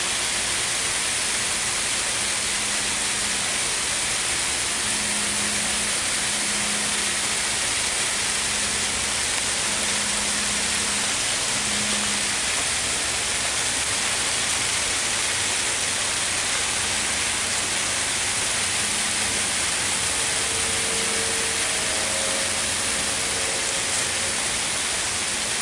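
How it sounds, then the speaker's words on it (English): A shower-type sprinkler sprays water over a jackfruit tree, producing a continuous, dense hiss of spray that stays even and steady throughout, with faint tonal hums in the background and no talking. "you can see the water pouring on the tree. And it's hitting the whole thing"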